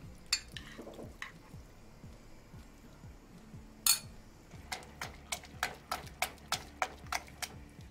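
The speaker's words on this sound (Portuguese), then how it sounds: "Mais um pouquinho do caldo e vou colocar a rabada desfiada." Risotto cooking in a pan as broth and shredded oxtail are added: a run of sharp utensil clinks and taps against the pan, steady and close, with a faint frying sizzle underneath.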